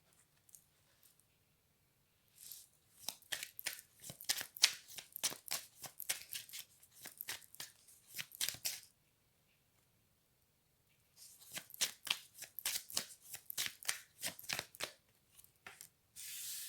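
An oracle card deck is shuffled by hand in two long bursts of rapid, crisp riffling and slapping, close and fairly quiet, separated by a short pause of near silence.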